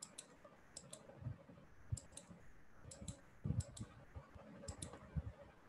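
Computer keyboard keys clicking during typing in Microsoft Word, arriving in irregular short bursts of light taps, close to the microphone and fairly quiet.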